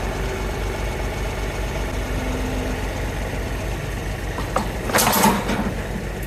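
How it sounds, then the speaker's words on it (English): A tractor engine idles at a steady, even rumble throughout, moderately close, with a brief clanking knock near the end and no voices. "All right, back to the tractor."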